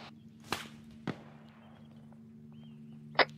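Three sharp, isolated gunshots in the Arma 3 military simulation game, spaced a few seconds apart at moderate distance over a steady low hum, with no talk.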